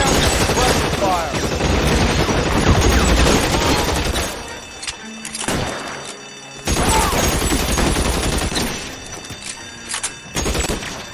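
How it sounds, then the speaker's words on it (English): Sustained suppressing gunfire in L.A. Noire roars loud and dense, dropping out briefly midway before another heavy burst of shots resumes, with sharp isolated cracks near the end. "I'll lay down the suppressor fire"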